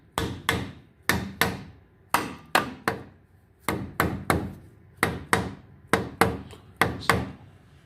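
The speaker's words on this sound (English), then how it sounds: "all I'm going to do is gently tap, apply even pressure around the edges" A new rear axle seal is tapped into place on a 1994 Mazda B4000 / Ford Ranger with sharp, close hammer strikes, mostly in quick pairs and triplets with brief gaps between groups.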